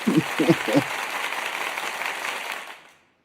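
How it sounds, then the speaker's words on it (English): Piped-in applause sound effect: a burst of crowd clapping that holds steady for a couple of seconds, then fades out to silence, with a few short vocal sounds at the start. "let's pipe in our applause"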